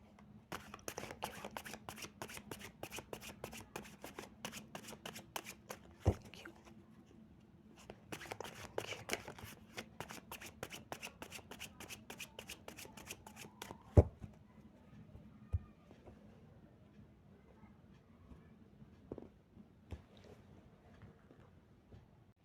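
Tarot cards being shuffled, a dense run of quick papery riffles and flicks in bursts with a short pause, then sparse taps and slaps as cards are laid down, close and fairly quiet.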